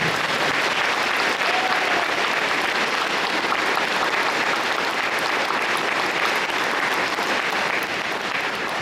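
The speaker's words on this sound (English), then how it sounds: "how about a round of applause for these kids?" A crowd at a school Veterans Day ceremony gives a round of applause for the children, loud, dense clapping that stays steady and unbroken for about nine seconds.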